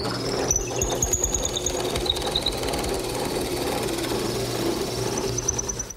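Drill press boring through walnut for a table build, a steady motor hum with rapid rhythmic chatter as the bit cuts, close and continuous with no voices.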